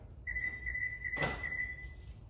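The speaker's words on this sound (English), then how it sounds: "So very simply, I take my key fob and I unlock the vehicle." A Lexus LX470's door locks actuate as the key fob unlocks the vehicle; a door lock actuator has failed. A single short mechanical click lands midway, set over a steady high-pitched tone.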